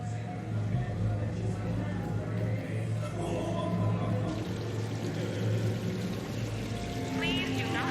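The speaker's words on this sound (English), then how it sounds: "Please do not touch the waterfall. The fountain is decorative." A decorative fountain in Mass Effect 3 pours water steadily and continuously at an even level, with low ambient hum and music-like tones underneath.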